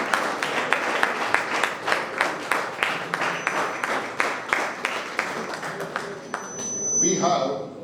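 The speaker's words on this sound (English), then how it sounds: "A big round of applause for all the achievers who have made us proud." A gathering at a college's National Sports Day celebration claps for its achievers, the applause sparse and rhythmic with distinct individual claps before fading into a brief rustle at the end.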